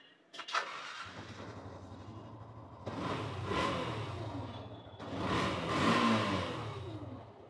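A fresh-condition 2016 Yamaha Fazer version 2 motorcycle starts with a short crank and catches, then settles into an idle broken by two strong, rising revs close by, with no talking.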